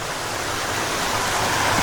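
A waterfall in the Philippines roars in a dense, unbroken wash of rushing water, loud and steady throughout with no voices.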